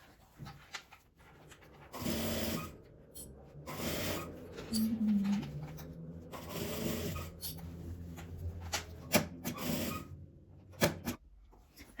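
A sewing machine stitching together leftover fabric scraps to make a bag: bursts of steady mechanical whirring that start and stop, close up, with soft handling and rustling noises between runs.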